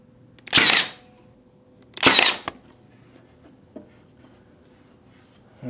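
A nail gun pins a plywood edge in place with two short, loud, close bursts about a second and a half apart, followed by near silence and a few faint knocks.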